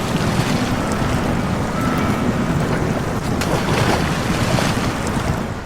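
Pacific P16 truck in the SnowRunner video game drives through water, a loud continuous rushing splash and engine churn with no pauses.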